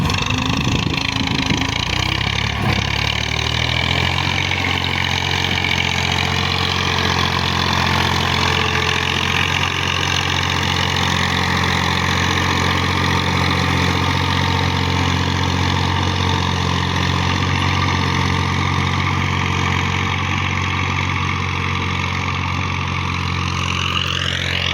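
A Massey Ferguson 240 diesel tractor idles steadily close by, a constant low throbbing engine hum with an even, unchanging rhythm and no talking.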